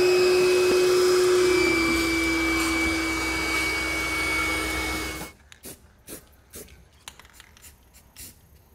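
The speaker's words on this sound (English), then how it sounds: "vacuum up all the mess we made" A shop vacuum whines loudly, sucking up cutting debris beside a 2012 GMC Sierra during a fifth-wheel hitch install, then shuts off at about five seconds, leaving scattered clicks and handling noises.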